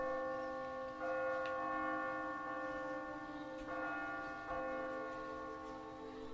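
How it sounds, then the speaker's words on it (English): Many bells ring together in overlapping peals, with fresh strikes every second or so over a steady resonant hum, moderately distant. "they were summoned to the hall by the ringing of many bells"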